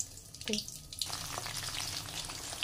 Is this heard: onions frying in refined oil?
yes